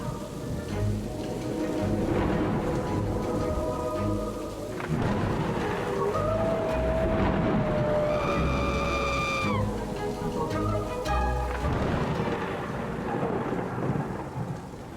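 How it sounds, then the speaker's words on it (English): A thunderstorm with heavy rain in a comedy sketch: a steady, loud roar of rainfall and rumbling thunder runs throughout, with tonal sounds layered over it. "The storm is so bad."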